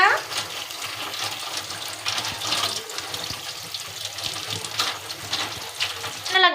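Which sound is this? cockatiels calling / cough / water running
water running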